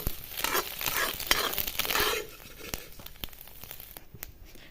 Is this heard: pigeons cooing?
no